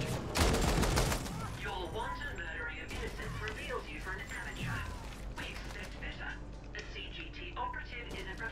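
A high-rate weapon fires in The Ascent. A loud burst of rapid shots opens the sequence, then steady mechanical gunfire and clatter continue under someone talking.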